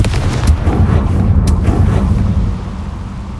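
A Confringo explosion spell from the game Hogwarts Legacy goes off as a heavy, loud boom, with a second burst close behind and a rumbling tail fading out.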